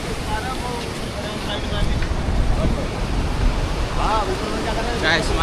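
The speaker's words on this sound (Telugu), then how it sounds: "చాలా పెద్ద రివర్ ఫ్లో" The Bhagirathi river flowing strongly down from Gangotri, a loud, continuous rushing roar mixed with wind buffeting the microphone, with voices talking over it.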